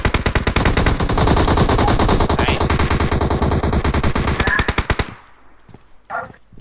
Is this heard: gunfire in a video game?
yes